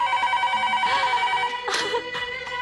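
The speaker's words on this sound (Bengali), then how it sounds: "তুমি ফোন ধরো, আমি এক্ষুনি আসছি।" A telephone bell rings in repeated bursts, loud and close, with no talk over it.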